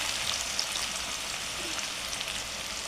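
Finely chopped onion frying in a tempering of oil for pav bhaji, giving a continuous, even hiss-like sizzle with no stirring or voices.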